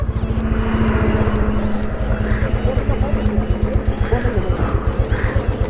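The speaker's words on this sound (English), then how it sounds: "Boys are shifting motorcycles." Motorcycles on a monsoon ride leave Maravanthe beach, a loud close engine thrumming in rapid even pulses with a steady low drone and revs swelling now and then.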